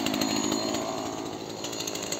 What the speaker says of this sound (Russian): Человек с бензопилой.